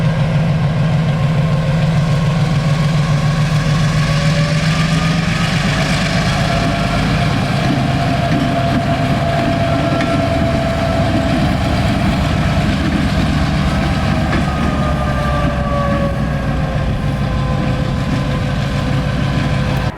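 An MP15 diesel switcher locomotive's engine rumbles loud and steady, its note rising and shifting as it begins to move; no talking.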